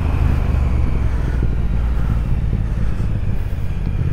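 Triumph Speed Twin 1200 motorcycle (2021) cruising through town in fourth gear at around 2000 rpm and 50 km/h, a steady low engine rumble mixed with wind noise, continuous and fairly close; no talking.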